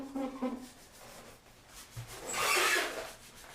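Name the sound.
scrubbing grout on tile backsplash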